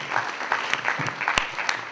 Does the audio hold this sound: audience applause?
yes